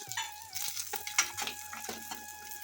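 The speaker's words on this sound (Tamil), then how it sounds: "வெங்காயம் பூண்டு எல்லாத்தையுமே சேர்த்துட்டு நல்லா வதக்கிக்கலாம்" Onion and garlic sautéing in coconut oil for a fish curry, a close sizzle with short scraping stirs and clinks of the spoon against the pan, no voices.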